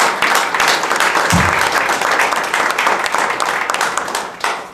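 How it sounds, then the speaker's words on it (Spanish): An audience in a hall applauds steadily at a Mexican academic event, dense sustained clapping filling the whole stretch, with a brief low thump early on. "Un aplauso"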